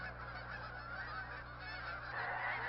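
Migrating geese honk at Blackwater National Wildlife Refuge in Maryland, a dense, faint chorus of many distant birds calling continuously with no voices present.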